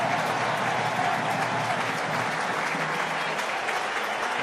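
A rugby crowd applauds a Saracens try against Wasps with broad, sustained clapping filling a stadium. A commentator's voice runs faintly underneath.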